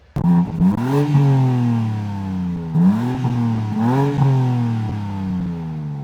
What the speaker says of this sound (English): Let me do a little M3 rev.